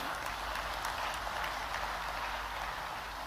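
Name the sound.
audience applause at investors summit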